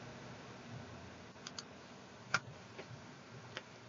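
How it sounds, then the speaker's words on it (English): A computer mouse clicks while someone moves through an online course page, making several faint, sparse ticks spread over a few seconds against a quiet room hiss. "I'm gonna click on quizzes"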